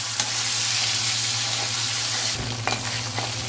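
Dried fish (shutki) frying in hot oil in a pan gives a steady, loud sizzle and crackle close by, with a couple of brief stirring scrapes and a low hum underneath, and no talking.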